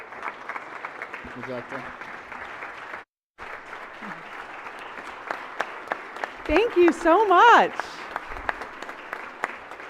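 Applause fills a senate chamber honoring a Teacher of the Year, steady moderate clapping from a crowd, with a brief dropout midway and people speaking briefly near the end.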